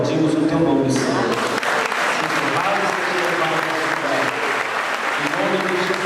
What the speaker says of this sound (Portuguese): nós erguemos as nossas mãos e aplaudimos o Teu nome, Senhor